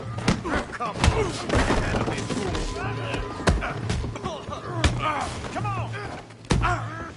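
Heavy punches thud and slam in a Red Dead Redemption 2 saloon fistfight, a rapid run of close, solid impacts under music and shouting voices, with one person speaking briefly.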